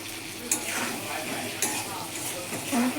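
Chopped tomatoes drop into a pan of simmering bata fish curry with ridged gourd, giving a soft steady sizzle with a few clinks of a spoon against the pot, close and moderately loud.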